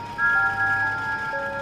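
A steam engine's shrill whistle sounds in a children's railway story, steady high tones that start abruptly and hold for over a second over a low rumble.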